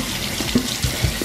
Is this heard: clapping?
no